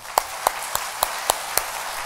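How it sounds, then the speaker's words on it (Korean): A few slow, evenly spaced claps from a church congregation at a revival service, six distinct hand claps over a soft room hum, moderately quiet and without speech. "귀한 말씀 주신 목사님께 감사 박수"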